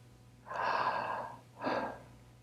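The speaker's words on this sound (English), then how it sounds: "Just breathing gently, just being with yourself." Two slow, airy breaths during a gentle breathwork exercise, a longer inhale-exhale followed by a shorter one, close and soft against a quiet background hum.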